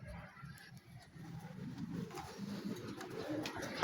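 Racing pigeons cooing in a loft, a low continuous murmur of overlapping coos from several birds nearby, growing slightly busier toward the end with faint chirps on top.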